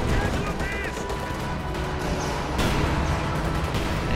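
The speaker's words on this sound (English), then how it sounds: "he's actually firing at the T-34" Dense, continuous gunfire and explosions in a strategy video game battle as infantry fire on a T-34 tank, loud and sustained, with a voice talking over it.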